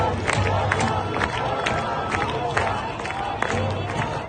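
An enraged crowd in Iran during unrest: a dense, agitated roar of many voices with scattered sharp shouts and cries rising above the steady din, close and continuous throughout.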